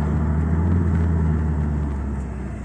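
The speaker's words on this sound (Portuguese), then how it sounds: "Então sobe o giro agora e sobe velocidade junto." An Audi A3 turbo with a forged engine accelerates in second gear, a loud steady low engine drone and road rumble from inside the car, rising slightly as the revs climb.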